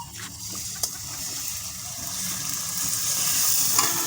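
Ginger and garlic spice paste sizzles steadily in hot oil in a pan while being stirred, with scraping stir sounds and a continuous close frying hiss throughout.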